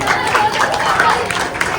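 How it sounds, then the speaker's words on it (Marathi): Loud applause from a group of people playing games together, a dense patter of clapping that rolls on steadily for a couple of seconds, with some crowd chatter mixed in. "जोरदार टाळ्या वाजवाय"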